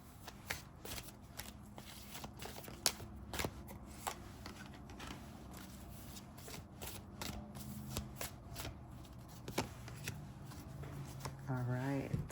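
A deck of tarot cards being shuffled, with repeated crisp riffles and flutters across the whole stretch, moderately close, while a voice talks quietly underneath.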